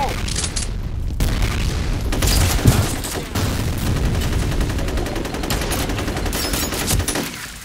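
Combat in the video game Counter-Strike, with a grenade blast and gunfire: a dense, unbroken barrage of rapid shots and booms, loud and close throughout.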